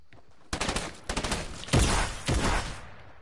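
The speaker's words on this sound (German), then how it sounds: "Und die ganze Zeit nur ballern. Mit der schlimmsten Waffe." Gunfire in Fortnite plays on PS4 Pro as rapid bursts of loud shots, first a stuttering string of single cracks, then two dense heavy volleys close by, with no talk.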